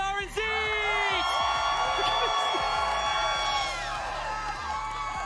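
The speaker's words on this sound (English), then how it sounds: "Can I get a huge round of applause representing Brazil?" A large esports event crowd at a Fortnite tournament cheers, whoops and applauds for the Brazilian team, a loud, sustained roar with high shouts rising above it.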